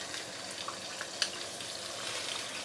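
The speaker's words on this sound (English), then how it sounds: "we shall pan fry the fish first" Fish pan-frying in hot oil gives a steady, dense sizzle throughout, broken by a few faint pops and crackles close by.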